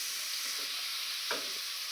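Capsicum and onion fry in a pan with a prepared sauce, making a quiet, even hiss with one clear scrape of a stirring spoon partway through.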